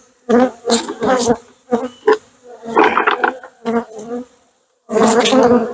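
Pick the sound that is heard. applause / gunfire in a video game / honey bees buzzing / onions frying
honey bees buzzing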